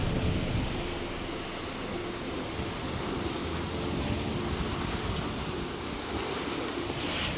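Sea waves roll and break over the bow of a sailboat heading to Antigua in roughly 1.5-meter swells, a continuous loud rush of surf and spray mixed with strong wind buffeting the microphone throughout.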